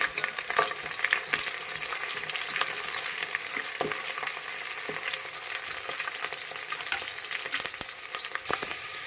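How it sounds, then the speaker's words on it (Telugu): Onions and curry leaves frying in a pan for a Telugu stuffed ivy gourd curry, giving a steady close sizzle with occasional stirring scrapes and clicks and no talk throughout. "బ్రౌన్ కలర్ వచ్చేంత వరకు వేయించుకోవాలి"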